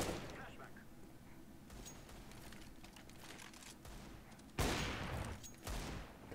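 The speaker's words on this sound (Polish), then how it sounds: "Kto to we mnie tak strzela?" Counter-Strike: Global Offensive gunfire comes in rapid bursts, with a sudden loud volley near the end over quieter background shots and game noise, and a voice talks at times.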